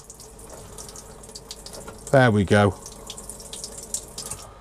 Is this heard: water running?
yes